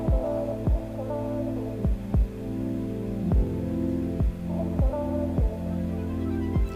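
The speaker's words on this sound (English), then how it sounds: "this little vocal chop sample that's in the instrumental" A chopped vocal sample loops through a song's instrumental, pitched tones cut by rhythmic thumping hits in a steady pulse, full and electronic-sounding, with no talking over it.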